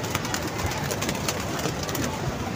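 Pigeons coo and flutter at a pigeon club with a tall 70-foot net enclosure, a constant noisy background of bird sounds without speech.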